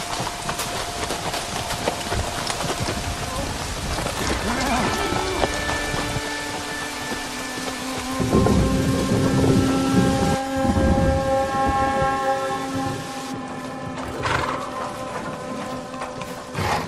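Thunderstorm with heavy rain, a dense continuous patter of rain under rolling thunder that swells loudest midway, with tonal music layered over it and no speech.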